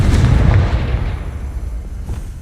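Confringo fire spell blast in Hogwarts Legacy, a heavy booming explosion that hits at once and rolls off into a rumbling decay, loud and alone.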